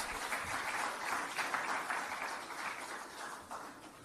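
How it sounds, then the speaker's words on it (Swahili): A crowd claps warmly for J-Root at a Simba sponsorship announcement, a dense wash of applause that holds for several seconds and slowly tapers. "Makofi mengi kwa J-Root"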